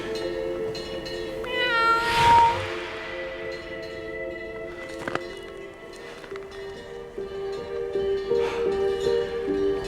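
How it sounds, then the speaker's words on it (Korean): A cat meows in a series of clear, rising and falling cries near the start, with a tonal musical backdrop running underneath throughout. "그것은 세조의 꿈속에 나타난 고양이였다"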